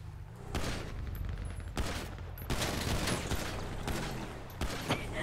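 Bursts of rapid gunfire in a GTA roleplay game, several loud volleys of fusillade and machine-gun fire in quick succession, close and continuous with brief gaps between bursts.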